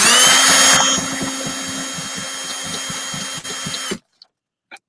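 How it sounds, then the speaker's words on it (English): A cordless power drill runs steadily at close range, starting with a loud high whine that settles into a continuous buzzing drone for about four seconds before cutting off abruptly, followed by a couple of faint clicks. "But anyhow, yeah, I'll get the drill."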